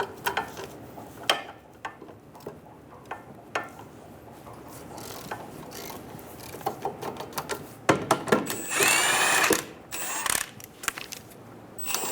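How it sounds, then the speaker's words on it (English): Caliper bracket bolts being loosened with a 15mm socket on a 2000-2007 Ford Focus front suspension: scattered mechanical clicks and ratcheting, then a louder, sustained whirring burst partway through. "Using a 15mm socket, remove the caliper bracket bolts."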